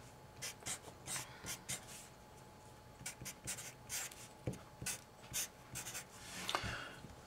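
A math derivation is written out by hand in quick, scratchy strokes that come in short bursts with brief pauses, close and quiet.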